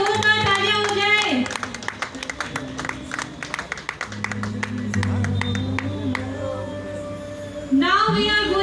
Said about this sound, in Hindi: एनर्जी के साथ एक बार जोरदार तालियां हो जाए।